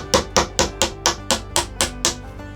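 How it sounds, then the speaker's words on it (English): Eight evenly spaced sharp knocks of a mallet driving a chisel into a hardwood dog hole insert block on a workbench, crisp and close with no talking. "So I need to try and pare this edge here or shave back the block. I'm going to try and chisel this if I can."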